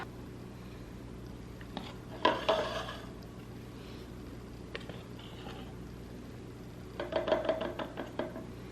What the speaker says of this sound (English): now we're just going to plop this batter into this baking pan